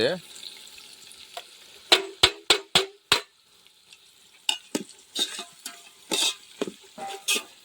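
Half a kilo of onions goes into hot oil in a pot where garlic has just turned reddish, bringing a run of sharp metallic knocks followed by bursts of sizzling and scraping, up close.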